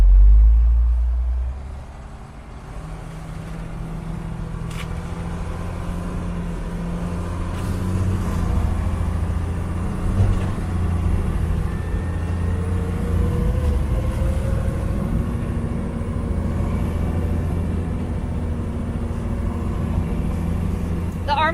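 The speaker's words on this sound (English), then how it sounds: "the Army truck has a suspension like a dump truck. So it's kind of a rough ride." Army truck with stiff dump-truck-style suspension driving in low gear over snow, a steady low engine rumble and road noise continuing throughout with faint thumps from the rough ride.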